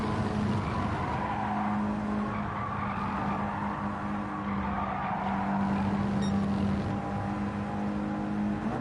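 A car drifts in a racing video game, a steady loud engine drone with a sustained tire squeal running through it.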